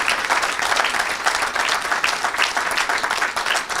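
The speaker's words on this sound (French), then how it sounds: "Acclamez pour Jésus-Christ" A church congregation applauds for Jesus Christ, a dense, sustained wash of many hands clapping at once, loud and steady throughout with a faint murmur of voices beneath.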